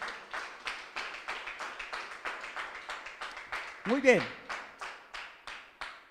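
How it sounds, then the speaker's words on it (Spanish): A church congregation claps in a steady, even rhythm, with sharp beats repeating about three times a second for several seconds. A voice briefly speaks partway through. "Le puede dar ese aplauso al Señor."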